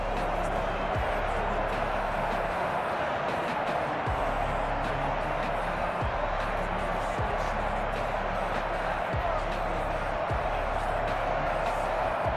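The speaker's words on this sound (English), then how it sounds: "The crowd getting into it as we come up on a big 3rd down" Crowd noise in the video game Madden NFL 21 during a simulated Buccaneers vs. Chiefs Super Bowl rematch, a steady, loud stadium roar with regular thumping beats underneath.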